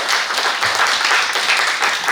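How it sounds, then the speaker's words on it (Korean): Audience applause following a high school team's presentation at a youth social participation contest, a steady dense wash of clapping throughout, moderately loud and continuous with no voices over it. "다시 한 번 더 박수를 전해주시죠."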